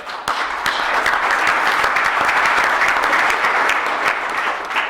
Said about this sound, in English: I'd like us just to give a round of applause to the Minister